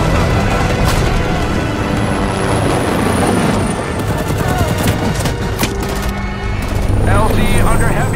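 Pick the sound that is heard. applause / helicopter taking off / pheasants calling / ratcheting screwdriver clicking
helicopter taking off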